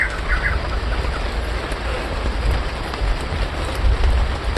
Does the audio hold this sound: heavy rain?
yes